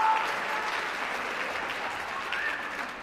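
Concert audience at a school band concert applauding Lisette, a steady dense wash of clapping from many hands throughout, moderately loud and continuous with no talk.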